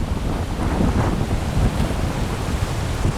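Strong wind and choppy waves on a lake during a fishing match, with loud, steady roaring gusts buffeting the microphone and water washing constantly throughout, no talking.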